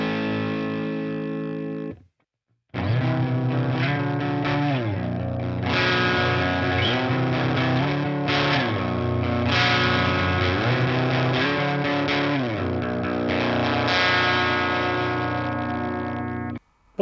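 A guitar played through a Boss PW-2 Power Driver pedal with gain turned all the way down sustains chords with a gentle, low-gain crunch after a short pause, steady and fairly loud.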